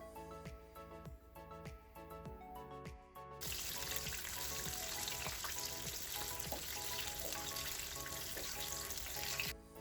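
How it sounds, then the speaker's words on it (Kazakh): Chicken wings for homemade KFC-style fried chicken deep-fry in hot oil with a loud, dense, steady sizzle that begins abruptly about a third of the way in, with background music throughout. "Бірінші әдіс бойынша тауықтың қанаттарын қызып тұрған майға қуырамыз."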